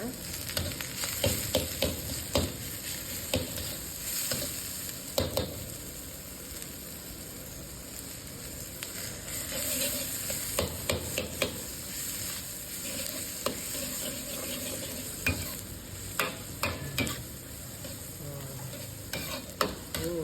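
Frying for chicken rice with a little butter added: a continuous sizzle in the pan broken by repeated scraping stirs of a utensil, close and steady with no talk.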